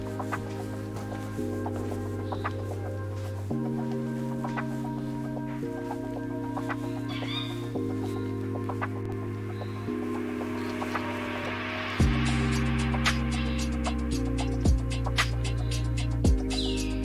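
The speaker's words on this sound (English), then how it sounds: "You can hear the birds." Chickens clucking and birds calling faintly at a riad hotel in the Marrakech medina, over a loud, shifting electrical hum that dominates throughout.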